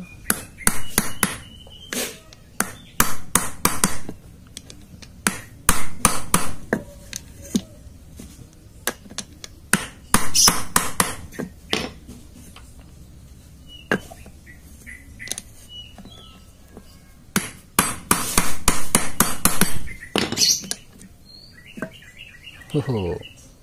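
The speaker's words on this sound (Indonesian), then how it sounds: "tinggal dipalu, terus kita pakai kunci sok 17, kita palu." Repeated sharp metallic hammer blows on a 17 mm socket wrench while working on a Yamaha Vixion motorcycle, in irregular bursts, loud and close, with pauses between runs of strikes and a few faint squeaks.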